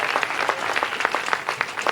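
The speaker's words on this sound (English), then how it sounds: "could you give another round of applause" An audience at a Nigerian art music concert breaks into brisk, steady applause, many hands clapping in a dense, continuous patter.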